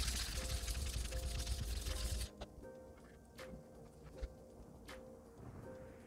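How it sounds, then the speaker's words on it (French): Running water pours and splashes loudly over an Atoma diamond sharpening plate being rinsed under a tap, then cuts off after about two seconds, leaving faint drips and small knocks in a quiet room. "je la passe sous l'eau pour bien la nettoyer"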